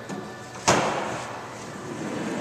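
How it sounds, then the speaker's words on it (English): The side door of a 2011 Sprinter executive limousine slides open with a sharp clunk, followed by a brief rolling rumble that fades into the background. "Josh, go ahead and open the door there"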